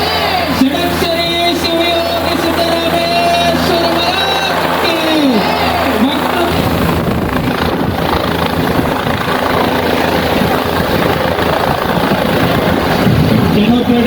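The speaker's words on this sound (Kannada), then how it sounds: "ಪ್ರತಿಜ್ಞಾ ರೈತರ ಮೇಲೆ ಹೆಲಿಕಾಪ್ಟರ್ ಮೂಲಕ ಪುಷ್ಪಾರ್ಚನೆಯನ್ನ ಮಾಡಲಾಯಿತು" A helicopter showers flowers over farmers at a large religious gathering in Chikkodi, its rotor thudding loudly and continuously overhead while a crowd murmurs beneath it.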